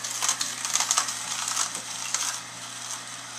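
A slow juicer crushes celery pieces for beet juice, giving a steady run of crackling, snapping crunches that stays fairly close and even before easing slightly toward the end.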